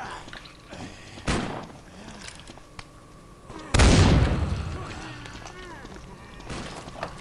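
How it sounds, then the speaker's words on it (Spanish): Fireworks explode in a video game as two sudden loud booms a few seconds apart, the second rumbling away slowly, with faint voices in the background. "Chavo, estamos en los fuegos artificiales limpios"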